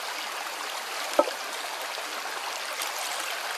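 A riverbank with water flowing in a soft, steady rush, heard at moderate distance, with one brief sharp click partway through.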